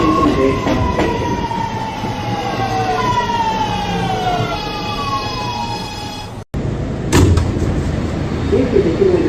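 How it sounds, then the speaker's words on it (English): An R211 A express subway train at 175th Street station rumbles loudly while its electric motors whine in shifting tones. The sound breaks off briefly, then returns with heavy rail noise. "This is a 207th Street bound A express train."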